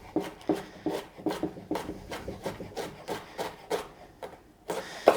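A knife chops broccoli stems on a chopping board in a quick, steady run of soft crunching cuts close by, with no talk.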